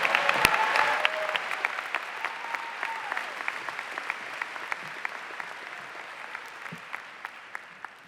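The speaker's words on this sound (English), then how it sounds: "You can give him a round of applause." Steady audience applause fills a 2023 Ithaca College commencement, a dense, even clatter of many hands with a few sharper claps and faint cheers at the start, tapering slightly toward the end.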